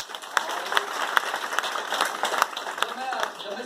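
Audience clapping at an MLM business training speech in Rishikesh, a burst of many hands with sharp rhythmic claps standing out from the dense applause over several seconds.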